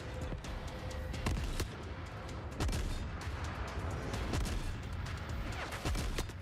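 Sustained gunfire from The Forever Winter, a run of rapid shots with several heavier booming bursts, loud and dense throughout with no talking.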